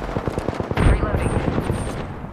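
Rapid automatic gunfire from Apex Legends rattles in a quick rhythmic string of close shots, with a heavier thump partway through and a voice talking over it.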